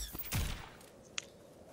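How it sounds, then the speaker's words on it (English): Gunfire in the fighting game Injustice, with the Joker character: a short burst of shots early on, then a single sharp crack a little later, fairly loud against quieter game sound. "Nice gunshots."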